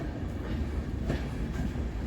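The Darjeeling Mail, train 12343, runs from Sealdah toward New Jalpaiguri with a steady low rumble and rattle heard from on board, with faint rhythmic wheel clatter.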